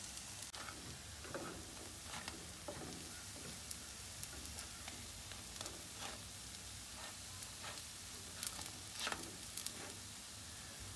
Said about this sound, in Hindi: अभी इसको दूसरी तरफ से भी हमें गोल्डन ब्राउन होने तक शैलो फ्राई करना है